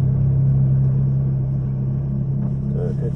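A Ferrari F430 sits idling on the Silverstone International Circuit, a steady low rumbling hum close by with a person talking over it.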